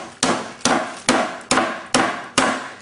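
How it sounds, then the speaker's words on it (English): A pork loin is pounded flat with repeated heavy thuds, six evenly spaced blows about half a second apart, each a sharp close impact followed by a brief decay, with no talking. "Now I'll batten the meat out"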